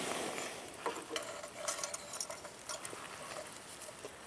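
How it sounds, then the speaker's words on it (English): Small clicks, taps and scrapes of a carburetor float bowl and adjustable main jet being reinstalled with a new gasket, close and quiet, in an irregular patter of light mechanical contacts. "we're going to go ahead and reinstall our float bowl and our adjustable main with our new gasket"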